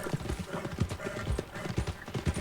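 Horse hooves clip-clopping in Red Dead Redemption 2, a steady rhythmic trot of close, clear beats with an occasional snort, heading toward a stable in a frontier town.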